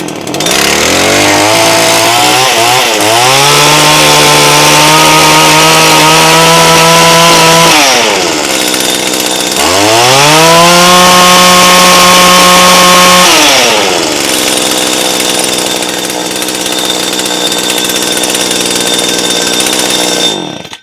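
A Stihl FS 85 string trimmer's two-stroke engine runs loud and close, revving up in two long surges with a drop to idle between them, then settling into a steady buzzing idle.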